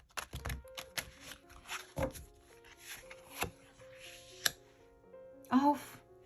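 A deck of cardstock cards shuffled lengthwise by hand produces scattered soft riffles and sharp taps, close and quiet, interleaved with someone speaking.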